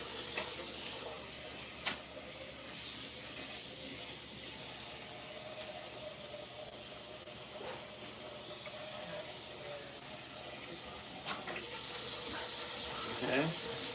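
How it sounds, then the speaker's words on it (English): Rice being rinsed under a running kitchen tap: a steady, fairly quiet water stream with occasional clinks and splashes, continuous throughout with faint background noise. "let me go rinse the rice off"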